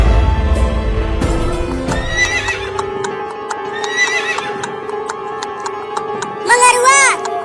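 A horse whinnies loudly and close by over steady clip-clopping hooves, with a second rising neigh near the end, set in a cartoon story as horses are readied for a night raid on a village.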